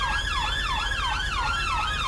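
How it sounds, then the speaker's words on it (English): In GTA 5 with a British police patrol mod, a police siren wails continuously in a fast, rising and falling sweep, loud and close, with no talking. "These sirens, man. Can you guys stop?"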